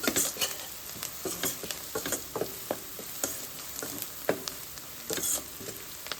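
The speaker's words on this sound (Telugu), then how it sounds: "మాడిపోక ముందుకే వేసుకున్నాం చేప ముక్కలు" Fish pieces frying in a pan with a little turmeric: a steady close sizzle with intermittent scraping and stirring clatter against the pan, no voices.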